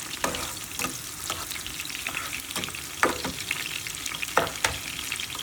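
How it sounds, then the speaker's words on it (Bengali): Chilies frying in a pan as they brown, a continuous crackling sizzle broken by several sharp scraping stirs and spoon knocks, close and fairly loud with no voices. "এখন এটা একটু ব্রাউন করে ভেজে নিতে হবে"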